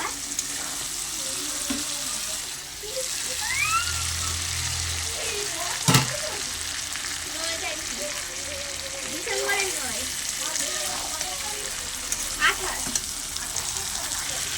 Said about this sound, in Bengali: এবারে ভেজে রাখা বেগুনগুলো দিয়ে দেব